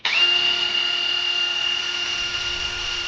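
Spinning up in its high gear, about 1900 rpm unloaded, a SATA 51011 cordless lithium drill gives a sharp start followed by a steady, close, high-pitched motor whine that slowly eases.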